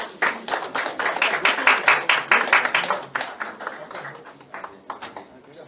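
A roomful of people at a Korean Medical Association event clap in a brisk, dense burst of applause that swells early, then thins out and fades, with a voice briefly heard alongside.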